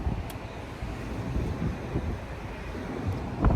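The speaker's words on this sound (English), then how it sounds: "It's windy, it's hot, but it's windy." Steady wind buffets the microphone with a low rumbling roar and gusts rising toward the end, with no voices.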